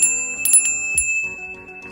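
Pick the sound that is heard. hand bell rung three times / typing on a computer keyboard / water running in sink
hand bell rung three times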